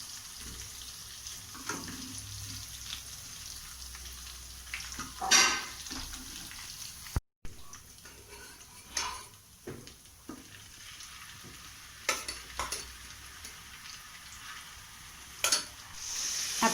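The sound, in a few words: chicken frying in a pan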